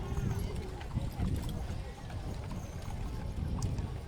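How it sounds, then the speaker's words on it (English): Hooves clip-clop steadily as carriage horses from Amsterdam, Missouri pull a high-wheeled show cart in a Christmas parade, the rhythmic footfalls mixed into busy crowd chatter and outdoor bustle. "Johnston Carriage Horses from Amsterdam, Missouri in a high-wheeled show cart being pulled by Oreo"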